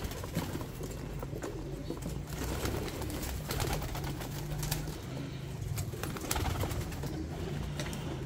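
Caged breeding bird pairs cooing and fluttering steadily in the background, a continuous soft chorus with occasional wing flaps and no talking.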